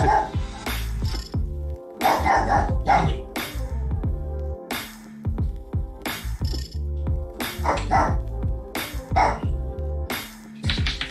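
A dog barks in repeated sharp bursts, close and loud, mixed with clinking glass-like knocks and a voice talking in the background.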